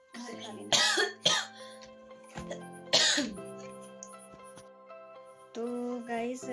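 A sick person coughs in several sharp, hoarse bursts close by, with throat clearing between them, while a person speaks quietly around the coughs.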